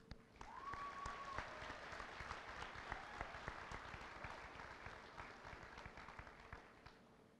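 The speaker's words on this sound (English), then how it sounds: "I ask that our seniors give a round of applause to our teachers here at Brush" Steady applause from a high school commencement audience, clapping for teachers and parents, fairly distant and even throughout, with a short tonal sound near the start.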